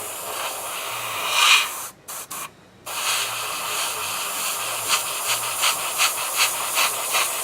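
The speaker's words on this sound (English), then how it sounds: "the paint that I'm spraying now" Aerosol spray paint hisses in steady bursts as a coat is applied, a close, bright airy rush broken by short pauses, then quicker rhythmic puffs.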